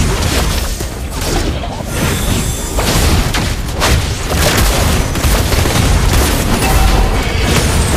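A turret destroyed in the game Mobile Legends: loud booming crashes and dense battle effects rumbling without pause, heavy low impacts layered under sharp clatter.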